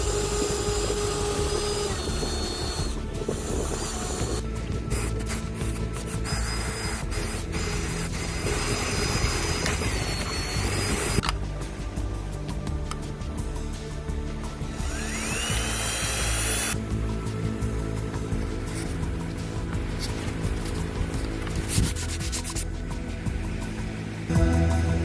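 An angle grinder with flap and wire wheels strips paint from a Holden HZ one-tonner hand brake part. It whines loudly and continuously up close, the pitch shifting and cutting in and out as the wheel bites and lifts off the metal.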